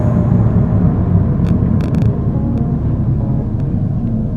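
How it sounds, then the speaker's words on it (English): A 2018 Audi S3 in sport mode, its exhaust droning loud and steady close up as the transmission holds high revs, with a few sharp transient pops partway through from aggressive downshifts. "it has these much more aggressive downshifts, much like you would have if you're driving in manual mode with the paddle shifters"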